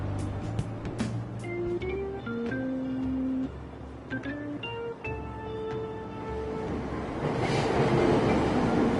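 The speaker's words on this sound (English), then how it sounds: "Train doors are now closing." A subway train in the video game Persona 5 Royal pulls out of a station, a rising electric motor whine stepping up in tone over steady rumbling and clattering wheels, with brief clicks near the start and a broad hiss building at the end.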